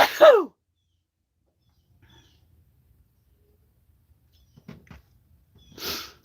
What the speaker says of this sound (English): Morning sneezes accomplished.